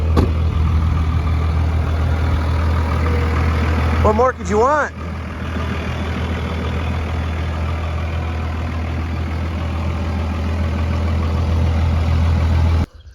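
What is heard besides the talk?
Cummins diesel farm truck engine idling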